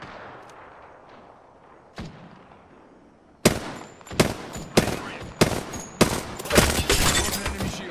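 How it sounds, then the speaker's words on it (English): Gunfire in the Apex Legends battle royale game: a few distant shots at first, then a series of loud close bursts and impacts in quick succession. "Shots fired and they're hitting me."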